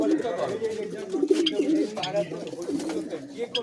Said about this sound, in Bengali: এখানে খাঁচাই খাঁচার কেজে করে পায়রা জোড়া বসানো হয়